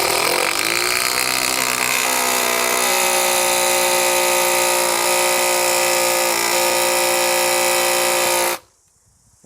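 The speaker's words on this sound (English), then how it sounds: "I've got the TD002G on what I call jet assist mode, so it'll start off slow and then ramp up" A Makita 40V TW002G high-torque impact wrench runs loud and continuous for about eight and a half seconds, its motor whine ramping up from a slow start, then cuts off abruptly into near silence.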